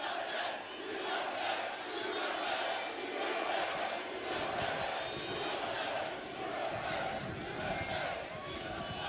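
A large crowd at a Donald Trump rally in Sacramento, California cheers and shouts continuously, a loud dense roar of many voices throughout.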